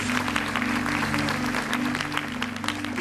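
A church congregation claps loudly and continuously during a service, a thick sustained applause with a steady underlying hum and some voices mixed in.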